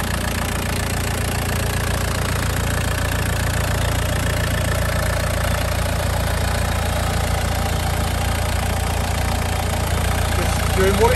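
A Land Rover Lightweight fitted with a 200TDi diesel engine taken from a 1989 Discovery idles steadily, a close, continuous knocking diesel rumble with no talk over it.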